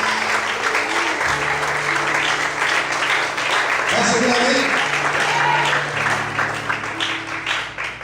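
A church congregation at a night service applauds, loud continuous clapping with a sustained musical tone underneath and voices over it.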